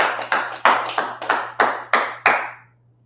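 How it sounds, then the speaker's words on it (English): About eight sharp, evenly spaced hand claps ring out in a slow rhythm, each with a short echoing decay, over a faint steady low hum. "Clap it up."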